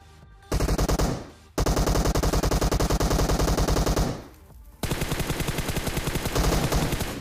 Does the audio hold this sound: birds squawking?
no